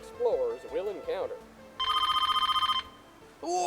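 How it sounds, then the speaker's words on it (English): An old-style telephone bell rings in one long rapid trill, loud and close, between bursts of excited talking before and after. "Stanley, Wait, I got the phone!"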